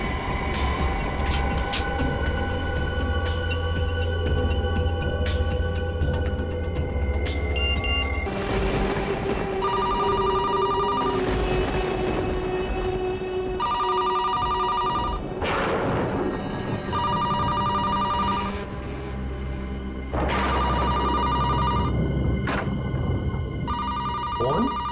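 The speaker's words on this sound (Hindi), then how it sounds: "दिन में तो कभी फोन की घंटी बजती नहीं।" A telephone bell rings at night in repeated, evenly spaced bursts with short pauses between them, loud and close over a low background hum.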